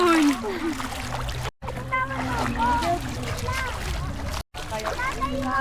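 Sea waves splash and wash on a beach at Atimonan, Quezon, a continuous watery rush with excited voices of adults and children talking over it throughout.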